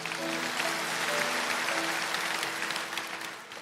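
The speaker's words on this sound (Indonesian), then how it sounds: "Kasih tepuk tangan untuk Tuhan Yesus" A church congregation at a Sunday worship service applauds for Jesus, a dense sustained wave of clapping that fills the hall, with sustained music tones underneath and the clapping easing off toward the end.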